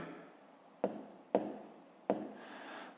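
A pen writing on paper while working a fifth-grade maths exercise, quiet close scratching with three sharper taps as strokes begin, faint and alone.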